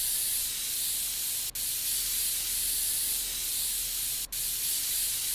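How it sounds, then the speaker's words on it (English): Compressed air sprays dust out of a dirty PC in PC Building Simulator, a continuous loud hissing blast with two very brief gaps where the spray cuts off and resumes. "let's grab our compressed air here"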